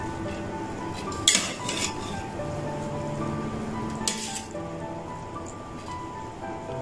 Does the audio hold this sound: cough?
no